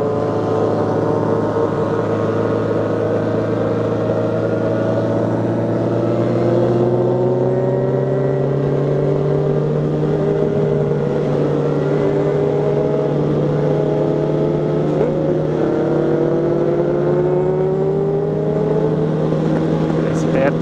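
A convoy of twelve motorcycles rides along the Fernão Dias highway, their engines a steady, continuous drone with pitch slowly rising and shifting as the group cruises, loud and close throughout, with occasional voices underneath.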